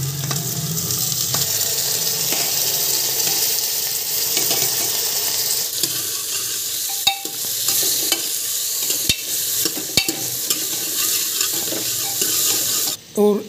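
Ridge gourd goes into a pan of cumin and onions frying in oil, bringing a loud, continuous sizzle with occasional sharp clinks and scrapes of a utensil stirring and a brief knock at the end.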